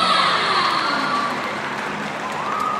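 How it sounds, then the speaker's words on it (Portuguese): Audience applause and cheering at the AnimeXtreme anime convention, a steady wash of crowd noise with a sustained tone running through it and no clear individual claps. "a gente finaliza uma salva de palmas para Molo"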